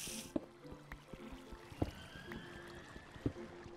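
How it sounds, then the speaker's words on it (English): Minecraft cave ambience: faint, eerie tonal swells and sparse dripping knocks echo in an otherwise quiet underground space. "Yes, creepy cave noises."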